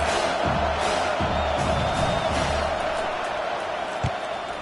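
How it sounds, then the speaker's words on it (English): A stadium crowd roars loudly and continuously during a College Football 25 video game, with faint commentary-like voices underneath and a brief thump near the end. "how nice is it to have the home crowd going absolutely bananas"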